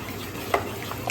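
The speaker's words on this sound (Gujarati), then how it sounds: "કન્ટિન્યુ આમ હલાઈને હા. મિક્સ કરવું જ એના પડશે. સાથે બેટરને મિક્સ કરી લઈશું." A spoon stirs Eno fruit salt into Surti locho batter with soft, wet scraping and light fizzing, close and continuous, and a couple of small clinks.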